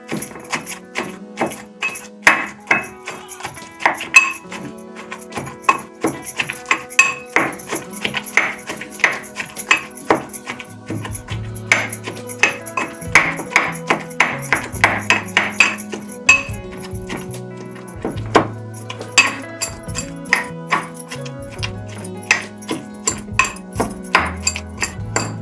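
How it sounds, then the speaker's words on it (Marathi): Roasted brinjal is pounded for bharit over a wood-fired stove. The blows come in repeated sharp knocks and clinks in an uneven, steady rhythm, close and clear, with a faint hum underneath. "आता वांगे टाकते मम्मी आणि ठेसून घेते आता."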